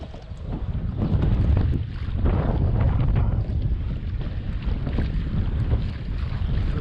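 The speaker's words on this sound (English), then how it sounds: "The wind is blowing straight this way." Wind gusts across a river, buffeting the microphone with a steady low rumble that swells and eases, with faint water movement beneath and no talking.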